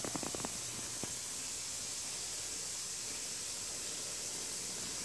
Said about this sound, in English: Wow, that is a really fast bath bomb.